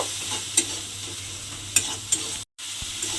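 Spice paste for a soybean curry being stirred and fried in a pan, a steady close sizzle with a few sharp scrapes of the spoon and one brief silent gap.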